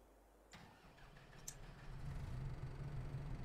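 A farm tractor's engine cranks and catches, then settles into a steady low rumbling idle, quiet and close with faint mechanical clatter at the start.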